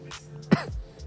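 A single gruff cough with throat clearing, close up, over a faint background hum.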